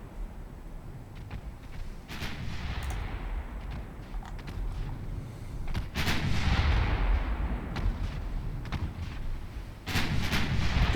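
Naval artillery in Ultimate Admiral Dreadnoughts booms in repeated heavy salvos, several sharp reports spaced a second or two apart over a steady rumbling battle backdrop.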